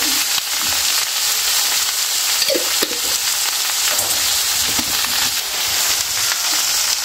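Okra frying in a pan, a steady loud sizzle and crackle of oil with occasional stirring scrapes, close up and continuous with no talking.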